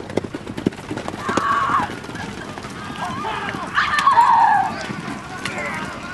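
Horse hooves clip-clop steadily while a horse whinnies twice, over a busy background with some voices.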